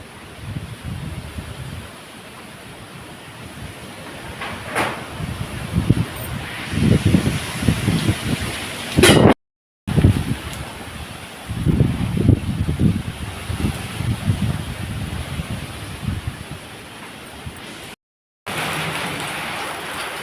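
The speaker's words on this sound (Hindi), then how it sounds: "तो देख लिया आपने कि कैसे ओले पड़ रहे हैं, बड़े बड़े ओले पड़ रहे हैं" Hail and rain pelting down during a violent afternoon storm with strong wind, gusts swelling and fading in rumbling surges, with two brief dropouts in the sound.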